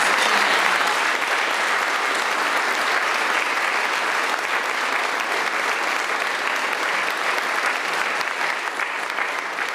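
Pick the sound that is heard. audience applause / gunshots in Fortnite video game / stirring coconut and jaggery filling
audience applause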